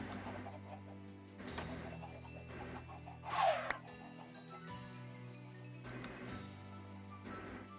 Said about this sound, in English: We go deal with the chickens.